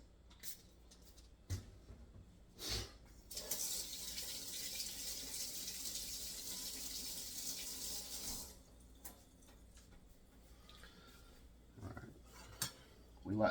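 Tap water runs steadily into a kitchen sink for about five seconds while vegetables are washed, framed by brief clinks of dishes and cutlery before and after.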